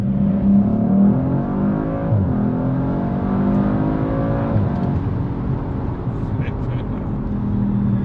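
A 2019 Audi RS5 Sportback engine droning and revving from inside the cabin, a loud steady tone rising and falling in pitch under someone talking.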